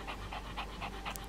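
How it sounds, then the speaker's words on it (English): A dog pants steadily and close up, with quick rhythmic breaths repeating about four times a second, with no talking. "He goes through periods where he's not panting, but for the most part, it's just this all morning long"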